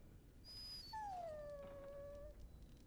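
A dog in Dragon Age Origins gives a single drawn-out whimpering whine that slides downward, preceded by a brief higher yip, heard alone at low volume.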